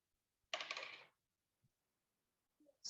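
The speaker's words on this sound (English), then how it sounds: "I am rolling the dice for you all." Dice tossed during a group game activity: a brief rattling clatter of tumbling dice, then a faint tap and a short soft rattle near the end.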